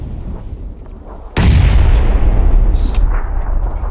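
A grenade detonates in PUBG: Battlegrounds with one sudden, loud, close blast, followed by a long, dense roar of debris and rumble.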